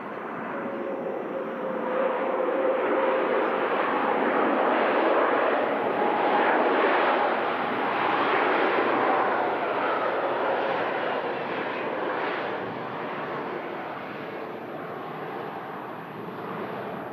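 A fixed-wing aircraft landing at Manchester Airport makes a broad, steady jet roar that swells and holds for the whole stretch, loud and fairly close, with no talk over it.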